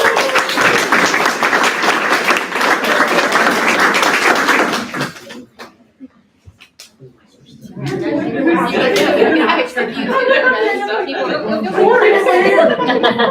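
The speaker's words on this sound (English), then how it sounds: "So let's give her a round of applause." Audience applause at a school corporation meeting for a Student of the Month honoree: dense clapping for about five seconds, a brief quiet gap, then a second burst of clapping mixed with chatter and laughter.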